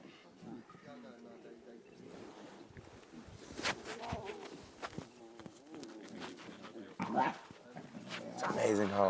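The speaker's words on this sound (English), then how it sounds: "It's amazing how much they sound like adults when they growl." Young wild dog pups growl and yip on a safari drive, rough snarls and whimpers mixed with bird calls, while people talk over them.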